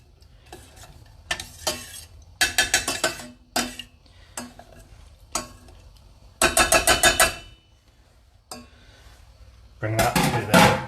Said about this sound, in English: mash the tomatoes with your potato peeler or potato masher